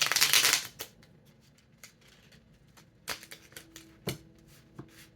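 Tarot cards are shuffled up close: a dense riffling burst at the start, then scattered soft taps and card slaps at intervals, quiet overall with no talk.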